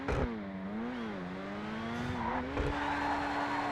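A Grotti Itali Stinger TT in GTA 5 launches with an engine revving up and holding a strained, rising note, briefly dipping at a gear shift, loud and close with no voices.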